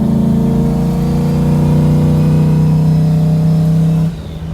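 A Cadillac Escalade with a swapped LSX V8 and a Hiram intake revs hard on the move, heard from the passenger seat as a loud, steady, deep engine drone that drops off abruptly near the end.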